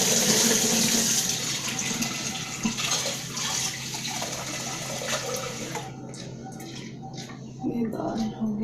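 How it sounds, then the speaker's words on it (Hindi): Running tap water pours steadily as lentils are washed in a home kitchen, a continuous loud rush that drops away near the end, with someone talking over it. "दाल को धो लेते हैं"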